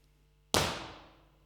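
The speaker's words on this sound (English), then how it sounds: "if you listen to a normal impulse response" Sampled impulse response of the Saal 3 concert hall: one sharp broadband hit that blooms into a long, smooth reverberant tail, fading steadily over about a second in otherwise quiet surroundings.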